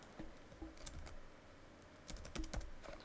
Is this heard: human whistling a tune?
no